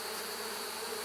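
Honey bees crowd the top super of a hive, a dense, loud, continuous buzz with no pauses, close up and alone.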